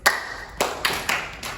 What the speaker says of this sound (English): Everybody do one clap for me like this.